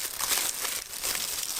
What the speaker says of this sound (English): Let's take off the tissue paper.